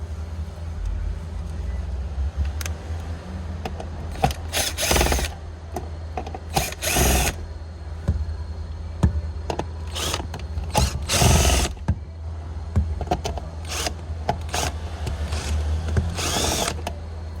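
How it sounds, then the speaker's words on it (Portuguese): Power drill backing out screws from a Hyundai i30 dashboard panel, short whirring bursts and ratcheting clicks separated by pauses, with handling noises between them. "Tirou os 4 parafusos, esse compartimento aqui sai"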